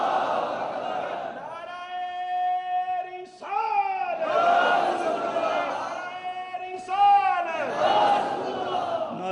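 A large crowd chants religious slogans in unison, loud sustained phrases rising and falling in three repeated waves with brief gaps between them.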